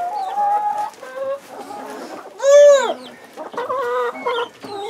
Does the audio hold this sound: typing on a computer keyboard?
no